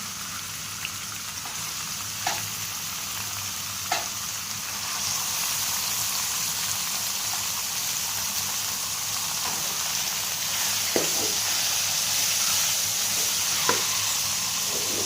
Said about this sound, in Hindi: हल्का से इसे सौते करेंगे और साथ ही हम चिकन डाल देंगे इसमें।